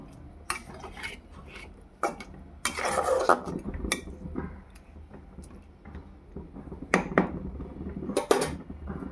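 Clattering metal cookware while fish cooks in a pot, with several sharp clinks and scrapes of a lid and utensils spaced irregularly, close and moderately loud.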